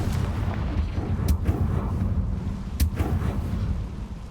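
Confringo blasting-spell explosions in the Hogwarts Legacy video game rumble over a dense, continuous roar, with two sharper cracks standing out, loud and without speech.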